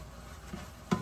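Seasoned meat sizzles softly in a pan while being stirred, a low steady fry with a couple of brief scraping stir sounds near the end, close by and without talk.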